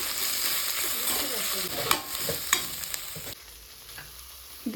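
Onions and leafy greens frying in a pan for a greens soup, a broad steady sizzle with spatula scrapes and stirring knocks, fairly close, the sizzle dropping quieter near the end.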